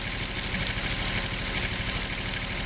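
A motorcycle engine idles in a steady, uneven mechanical chug with a faint knocking texture, held fairly close and constant, with no talking over it.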